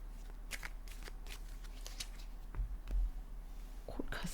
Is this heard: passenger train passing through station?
no